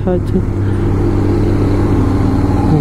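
Trucks drive along the Zoji La mountain pass road in Ladakh, giving a loud steady engine drone and rumble throughout, heard close up from a passing vehicle.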